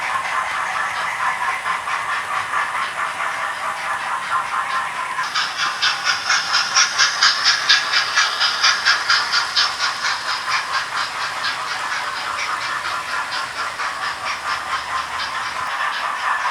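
A Hornby TTS sound-equipped model 9F steam locomotive running, giving a steady rhythmic chuffing with hissing steam that swells louder midway as it passes close, then eases back to a continuous beat.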